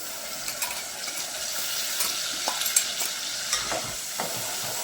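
Chicken with tomato and lemon cooks in a pan, giving a steady close sizzle with repeated scraping stirs throughout and no talk.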